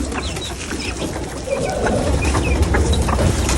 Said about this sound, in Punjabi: ਵੇਖੋ ਕਬੂਤਰ ਸਾਰੇ ਲੱਥ ਆਏ ਨੇ